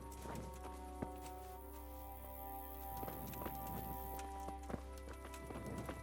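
A horse's hooves clip-clop past at a steady trot in the medieval video game Kingdom Come: Deliverance, the rhythmic thuds fairly close over a low ambient hum.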